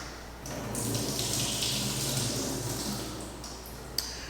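Water pours steadily from soaked Brazil nuts as they are drained in a kitchen, a continuous splashing stream running for several seconds before tapering off with a small clink at the end.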